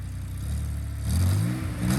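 A diesel SRT Cummins truck engine revs up close, its idle rumble swelling into a rising, strained roar around the middle and then climbing again briefly at the end, with no talking.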